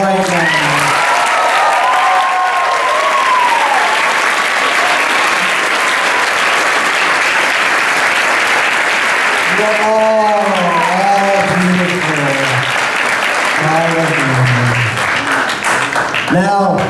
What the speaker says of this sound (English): I want everyone to give each other a round of applause for this right now